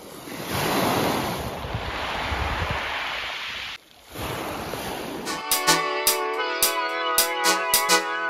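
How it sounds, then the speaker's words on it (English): Sea waves wash onto a stony beach with a loud, rushing, windy roar for several seconds, then give way to other sounds. "The waves sound so therapeutic"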